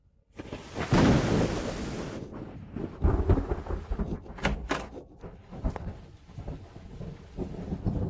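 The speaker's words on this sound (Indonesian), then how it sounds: "di luar ada petir" Thunder outside, a loud rolling rumble near the start that fades out, followed by scattered knocks and rattles.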